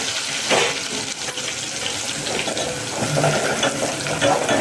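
Mustard seeds and cumin spluttering in hot oil with garlic, a continuous crackling sizzle with sharp pops, close and steady throughout, no talking.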